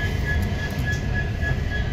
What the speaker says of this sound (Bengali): এই ট্রেন ঢুকছে, আমি নেমে ফোন করছি।